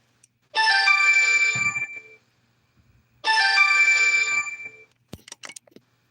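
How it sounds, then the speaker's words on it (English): A mobile phone ringtone plays twice, two bright melodic bursts about a second and a half each, separated by a short silence and followed by a few faint clicks. "I forgot to shut my ringer off my phone."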